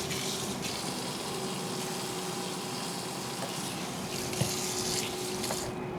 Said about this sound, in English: So I'm going to wash my hands real quick so I can put some oil in the pan.